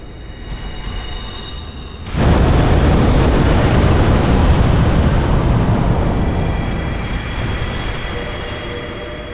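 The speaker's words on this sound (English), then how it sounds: "so we have to use Fire Tempest" Fire Tempest pyromancy cast in Dark Souls against a Prowling Demon in Sen's Fortress: a sudden loud roaring eruption of flame bursts in after a quieter lull, then rumbles on and slowly fades.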